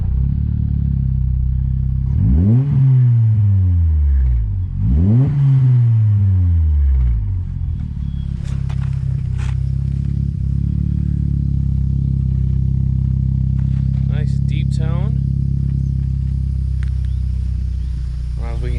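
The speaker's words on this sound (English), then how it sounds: "Let's hear how she sounds" A turbocharged Honda CR-Z with a repaired exhaust idles with a deep rumble and gives two quick revs that rise and fall early on, then settles back to a steady idle while faint background sounds come and go.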